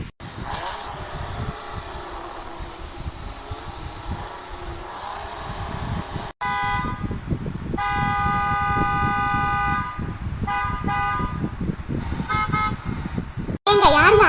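A car horn honks repeatedly at a car ahead in an animated cartoon street scene, with loud, sustained toots over continuous traffic rumble and a brief cut partway through.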